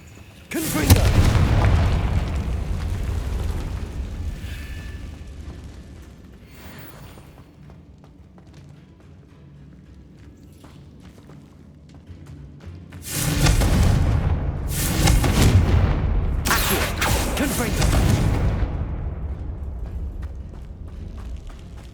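Confringo blasting spell explosions in the Hogwarts Legacy video game: a loud booming blast early on, then after a quieter stretch a rapid series of three or four heavy explosive bursts with rumbling tails.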